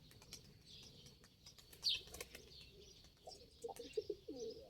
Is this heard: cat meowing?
no